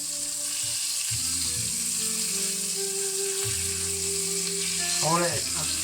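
Onions frying in a pan for burgers, a steady hiss of sizzling close by, with tonal hum and a brief voice-like sweep near the end.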